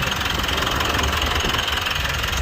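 A Mitsubishi Montero Gen 3 with a 4N15 diesel idles after its alternator pulley was replaced, giving a steady, close, rumbling idle with an even low knock and no talk.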